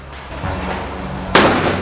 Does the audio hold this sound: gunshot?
yes